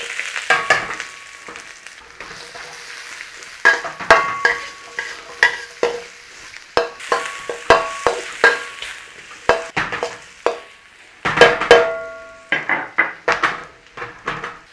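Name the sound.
stir-frying garlic and onions in a wok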